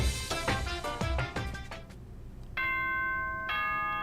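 An announcement chime from the Danganronpa: Trigger Happy Havoc video game, two clear sustained bell-like tones ringing out cleanly after a stretch of busier game sound.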